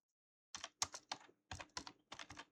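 Typing on a computer keyboard to enter a search query, three quick bursts of crisp, close key clicks separated by short pauses, in a quiet room with no talking.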